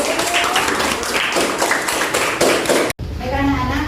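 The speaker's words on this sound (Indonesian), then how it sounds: "kita beri aplaus dulu" Students in a classroom clapping, a dense burst of close, rapid claps for about three seconds that cuts off abruptly, followed by quieter room noise and a voice.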